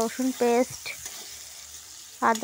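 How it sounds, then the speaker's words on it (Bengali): Chopped onion fries in hot oil while being stirred, a soft sizzle with scraping strokes between short bursts of talk. "তো তেলটা তো গরম হয়ে এসছে। এবার আমি পেঁয়াজ কুচি দিয়ে দিলাম।"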